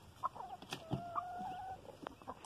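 Chickens on a small rural farm cluck and murmur softly, with a few short calls and a drawn-out squawk in quiet afternoon surroundings; faint and close, with no talk.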